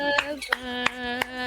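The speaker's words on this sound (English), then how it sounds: "We can hear you clapping." Hands clap about four times in a slow, even rhythm, each a crisp but fairly faint snap over sustained electronic game music.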